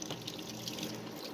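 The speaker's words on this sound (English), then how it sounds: "fill the bathtub with water" Tap water runs steadily into a bathtub, a constant, soft rushing splash with no talk over it.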